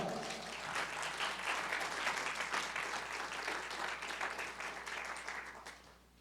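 A church congregation breaks into loud, sustained applause during a sermon, dense steady clapping that holds for several seconds before tapering off at the end.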